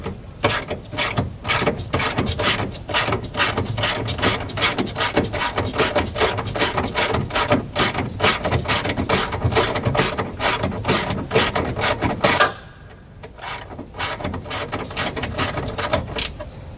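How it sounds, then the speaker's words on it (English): A 1/4 inch drive ratchet with a 10mm socket turns a speaker screw in a 2002 Toyota Camry. It clicks loudly and close in a fast, even run, pauses briefly, then clicks again. "I'm using a 1/4 inch drive with a 10mm socket."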